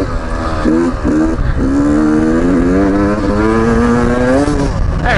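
A Beta 125 RR two-stroke motorcycle is ridden hard, its high, buzzy engine note rising and falling through revs and gear changes, loud and close, with wind rushing over it.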